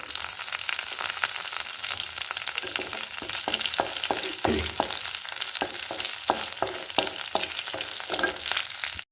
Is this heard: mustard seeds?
yes